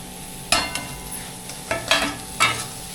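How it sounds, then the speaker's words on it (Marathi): Sprouted moth beans (matki) being stirred as they fry in a pan for misal, with a few sharp scraping stir strokes over a steady low sizzle, close and moderately loud. "मटकी फ्राय केलेली."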